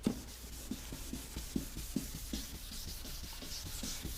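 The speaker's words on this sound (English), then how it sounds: "And then start wet sanding." Someone wet-sands a headlight lens with 800 grit sandpaper, making quiet, close, rhythmic rubbing strokes that repeat roughly every half second.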